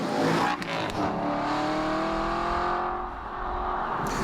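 Car engine and exhaust roaring from behind the driver in a steady, loud drone, the pitch shifting slightly as the revs rise and settle.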